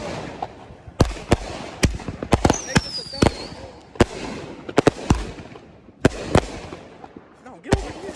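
Fireworks are set off outdoors: a string of sharp, loud bangs and crackling pops at irregular intervals, one with a brief whistle. People shout and talk among the blasts.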